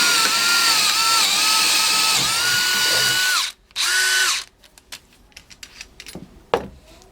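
A cordless drill with a nearly drained 5 amp hour battery, running at 1750 RPM, bores a 10mm bit into pressure treated wood. The motor whines loudly and steadily, cuts out briefly, spins again, then stops, followed by scattered handling clatter.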